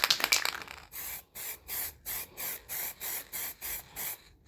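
A spray can lays a coat of paint on an old bench vice under restoration: a rattle at the start, then about nine short, even bursts of hissing spray in a steady rhythm, close by.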